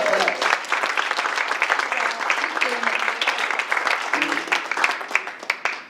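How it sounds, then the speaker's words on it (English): An audience applauds a sound helper named Lee at the Arts Bellevue Vue in the Round show, steady dense clapping filling the room for several seconds with some voices mixed in. "how about a round of applause for Lee with us today?"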